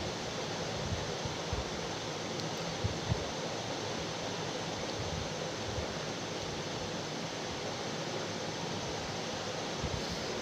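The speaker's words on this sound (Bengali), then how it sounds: "একে একে মাছগুলো সর্ষের তেলের মধ্যে ভাজতে দিতে হবে।" Fish pieces frying one by one in hot mustard oil, giving a steady, dense sizzle that hisses evenly and without break throughout, with occasional soft crackles and pops beneath the constant broadband hiss.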